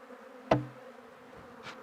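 Honeybees buzzing around a wooden hive box, a low steady drone with one sharp knock or tap partway through and a brief fainter rustle afterward, close and without talking.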